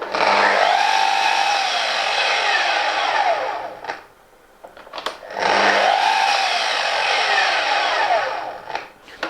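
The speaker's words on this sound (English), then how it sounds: "The EB in the KS120 EB signifies that that's an electronic brake, and that's useful because it slows the blade down quickly once you've stopped the cut" A Festool Kapex KS 120 EB mitre saw with an electronic brake whines loudly at full speed, then spins down and stops fast; after a short pause it runs up and brakes again, twice in all.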